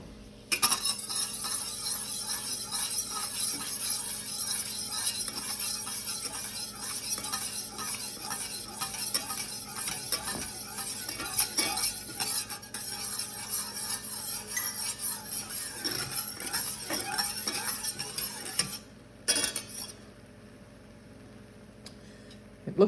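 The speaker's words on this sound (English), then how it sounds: "in comes the cream" Cream poured into a sauté pan that still holds the juices from cooked lemon chicken, then stirred steadily. The result is a continuous close scraping and clinking of a utensil against the pan, with a soft sizzle underneath.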